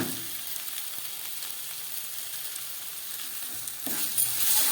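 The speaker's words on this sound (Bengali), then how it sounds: "এবার দিয়ে দিচ্ছি এতে সামান্য পরিমাণ হলুদ, আর দিয়ে দিচ্ছি পরিমাণ মতো নুন।" Ginger, garlic, onion and dried red chilli sauté in hot oil with turmeric and salt added, a steady close sizzle with light stirring scrapes, growing louder near the end.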